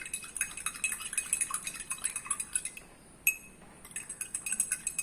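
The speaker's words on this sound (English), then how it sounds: "into this water and stirring with a spoon" A spoon stirs sugar into a glass of water, clinking against the sides in quick, steady taps, close and clear, with a brief pause partway through before the stirring picks up again.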